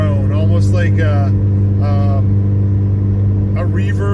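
Steady low exhaust drone from a Ford Focus ST fitted with a Roush catback exhaust and catless downpipe, cruising at about 78 mph on the highway, a constant deep hum heard from inside the cabin under someone talking.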